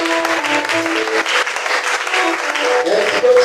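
A church congregation applauds during a worship service, dense sustained clapping from a crowd with voices and music tones mixed underneath throughout.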